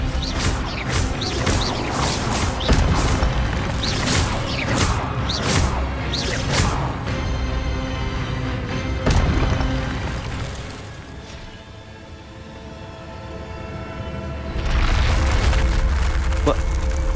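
An Expelliarmus spell strikes in the Hogwarts Legacy video game with booming, whooshing magical impacts over a dense game soundtrack, sustained and loud throughout, with voices talking over it.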